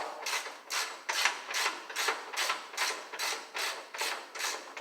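A ratchet clicks steadily while backing out a long bolt on a 1968 Mustang, about a dozen even back-and-forth strokes of rapid pawl clicking, close and clear with no talk.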